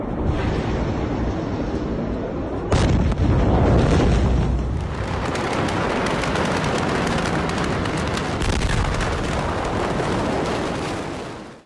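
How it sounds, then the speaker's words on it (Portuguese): A massive explosion rips through the port of Beirut, Lebanon, a sudden heavy boom cutting into a low rumbling roar that lingers loudly and rolls on for several seconds with no voices. "A explosão de dimensão assustadora foi registrada de vários ângulos."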